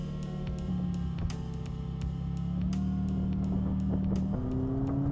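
McLaren 570S Spider with the top up, driving on a rough road as the transmission shifts quickly, a steady engine drone that steps up in pitch at each shift, heard from inside the cabin with light knocks and no talk.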